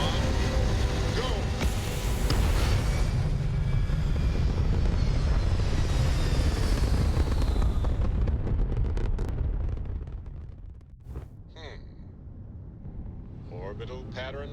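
A spaceship lifts off in the video game Starfield with a loud, sustained engine roar and rumble that builds and then fades, followed by quieter tones and a voice speaking.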